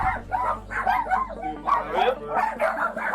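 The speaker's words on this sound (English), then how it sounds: "so many dogs yapping at the same time" Many dogs inside a house yapping and whimpering at once, a dense, continuous chorus of high yips and barks, close and loud, with a low steady hum underneath.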